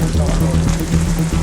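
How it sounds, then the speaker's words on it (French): Heavy rain pours steadily in a thunderstorm in the desert, a dense close hiss of drops hammering the ground without letup, with a faint low rumble underneath. "une énorme tempête d'orage et de pluie"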